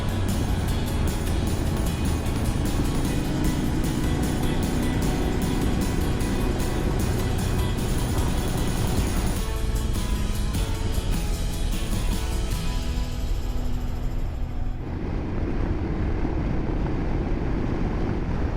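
A motorcycle engine roars steadily while riding near Lake Nacimiento, thick and continuous with heavy wind rush over the microphone, holding a constant loud drone and shifting in tone toward the end as the throttle changes.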